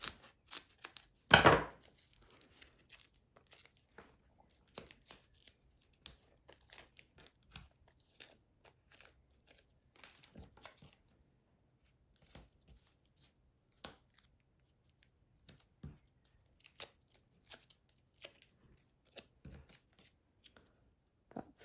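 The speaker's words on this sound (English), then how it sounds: "So I'm going to snip my foam pads in half." Scissors snip foam pads for a sunflower cardmaking project, one loud close cut near the start followed by quieter scattered rustles and small handling taps in a quiet room.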